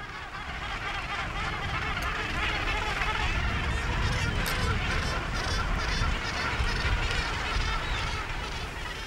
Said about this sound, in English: Gannet colonies rival the seals for noise